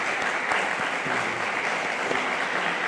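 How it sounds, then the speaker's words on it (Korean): Church congregation at a Korean Sunday service in Rome clapping in encouragement for the choir, a steady, moderately faint round of applause across the room lasting a few seconds. "우리 글로리아 성가대원들에게 격려 박수 한번 부탁드립니다."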